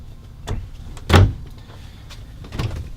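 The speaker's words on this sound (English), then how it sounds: "These cabinet doors were built by Eli's dad, who's filming." Wooden cabinet doors built into a camper van for mountain biking are opened and shut, giving three knocking thuds close by, the middle one loudest, with quiet rustling between.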